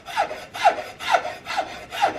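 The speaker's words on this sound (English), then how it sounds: "coming in again with just the flat of that file" A hand file strokes across a wooden muzzleloader rifle stock on a CVA Hawken build, five even rasping passes about half a second apart, close and alone.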